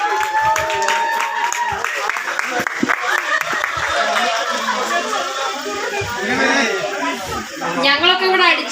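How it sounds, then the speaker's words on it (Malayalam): An audience claps for a local MLA: a burst of sharp, close hand claps fills the first few seconds, then gives way to lively chatter and laughter with scattered claps beneath it. "നല്ലൊരു കയ്യടി കൊടുത്തേ നമ്മുടെ MLAക്ക്"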